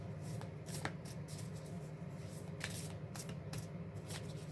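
Isis oracle cards, tarot-style, are shuffled by hand in soft, repeated riffling bursts with crisp flicks, close up but quiet, with no talking.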